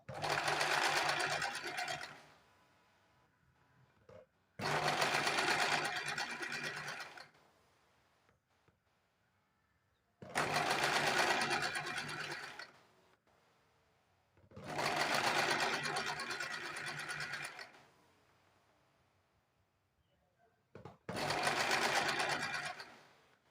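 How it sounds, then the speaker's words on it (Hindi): An electric sewing machine stitches a straight seam along double-folded piping on a blouse, running in five loud bursts of rapid whirring a few seconds each, separated by near-silent pauses. "यहाँ से सीधी सिलाई लगा देनी है, डबल फोल्ड करके सीधी सिलाई लगा देनी है।"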